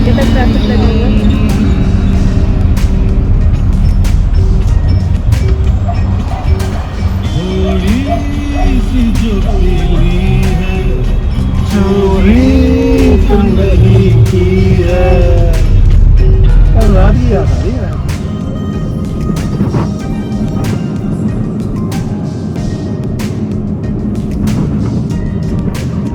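Busy road traffic with a steady rumble of engines, passing vehicles and horn-like tonal bursts, loud and continuous, with voices talking over it for much of the time.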